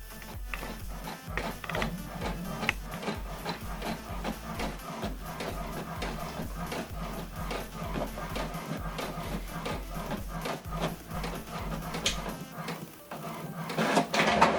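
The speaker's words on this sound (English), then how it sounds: "So we are printing this now from HP Smart app, and the document is printing" An HP printer prints a color document, a steady mechanical whir with rapid repeated clicks and ratcheting strokes running throughout, close and fairly loud, with a brief pause near the end.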